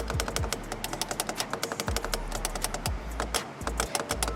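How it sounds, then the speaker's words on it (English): Magnetic paddle shifters in a Mercedes C63 clicking in a rapid, steady run of sharp, close taps, many clicks in quick succession with a low hum beneath, no voices. "Magnetic paddle shifter, just a more satisfying click and a more responsive click as well."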